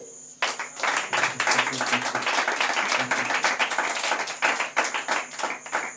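A church congregation breaks into sustained, dense applause for about five seconds after a preacher's call, with clapping that swells and stays steady throughout and some voices faintly mixed in.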